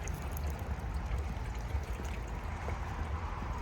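Water drips and trickles steadily nearby, a soft, continuous flowing wash with a low rumble underneath and no clear individual drops standing out.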